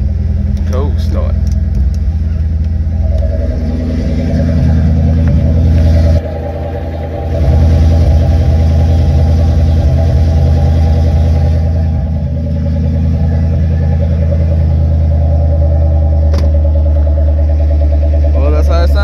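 A 2004 Ford Mustang Mach 1 engine cold-starts up close, settling into a loud, deep, steady idle rumble with a brief dip and swell, while a person talks over it.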